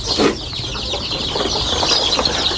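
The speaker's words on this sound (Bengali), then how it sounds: "দেশি মুরগির বাচ্চার উৎপাদনের কারখানা দেখে যান" Native chickens clucking at a chick-rearing farm, a dense steady chorus of close, loud clucks and squawks with no voices.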